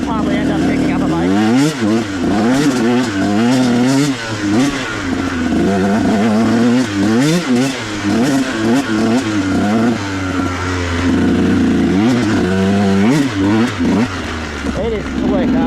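KTM 150 SX two-stroke dirt bike ridden on a slick, bumpy trail at mines and meadows, its engine rising and falling constantly as the throttle works, loud and close beneath a rider talking.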